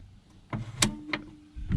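Door lock on a VW T5 van being locked: a handful of short, faint mechanical clicks and clunks spaced irregularly over under two seconds, with no talking.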